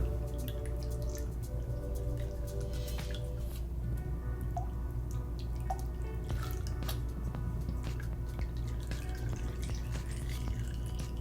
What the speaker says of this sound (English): we can now slide the lowers up and dump the fluid